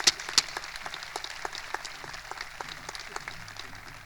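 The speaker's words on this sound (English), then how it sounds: "join me in an applause to celebrate their accomplishment this year" Scattered applause at a 2021 high school graduation ceremony for the graduating students, with distinct individual claps over a quiet hall, fairly faint and sparse.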